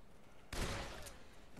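Gunfire in the Dead Island Riptide game arrives as one sudden burst and then fades off, fairly faint and heard without any speech.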